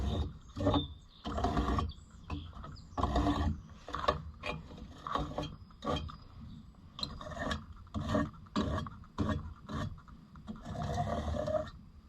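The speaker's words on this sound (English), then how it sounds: "Watching a guy comb a radiator." Radiator fins on an oil cooler being combed straight with a fin comb: repeated rasping, scraping strokes in an irregular rhythm, close up and moderately loud, with no talking.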